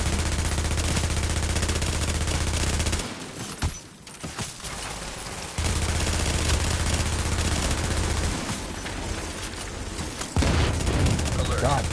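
In a video game, a sustained roar of gunfire and explosive blasts, including a sticky bomb detonating, fills the clip loudly and continuously, briefly dropping to quieter rumbling before the heavy noise resumes.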